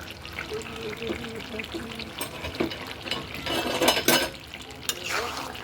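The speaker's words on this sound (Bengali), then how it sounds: "নাড়াচাড়া দিয়ে দিলাম।" Duck curry with garam masala paste and chui jhal is stirred in a pot, with soft wet scraping and sloshing strokes and occasional louder clatters, while a person talks quietly in between.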